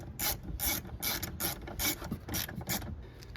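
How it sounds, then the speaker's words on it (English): A ratchet clicking in quick bursts while a bolt is tightened during a Nissan Frontier door lock actuator repair, about a dozen close, crisp strokes in an uneven rhythm, without talk. "Now we take this golden bolt. We secure this right here."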